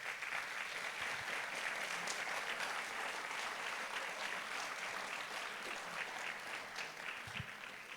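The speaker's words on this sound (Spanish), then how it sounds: "Eso merece un aplauso. Dele un aplauso al Señor." Audience at a church conference plenary session applauding, a sustained even patter of many hands heard from a moderate distance with no talk over it.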